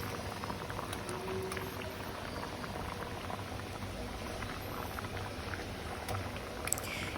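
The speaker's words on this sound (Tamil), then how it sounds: "தேங்காவை ஊற்றி இந்த மாதிரி சலசலன்னு கொதிக்கிற அளவுக்கு விட்டுறணும் இந்த மாதிரி நல்லா கொதித்து வரவும்" Tamil lentil ball curry (paruppu urundai kuzhambu) with coconut bubbles and boils steadily in a pot, a dense, continuous simmering hiss with fine popping that stays even throughout.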